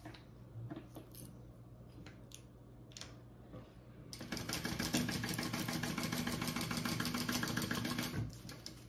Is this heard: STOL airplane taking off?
no